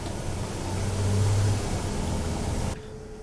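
A Mercedes / Dodge Sprinter van drives with a steady engine drone and road rumble, swelling slightly as it accelerates, then cutting abruptly quieter.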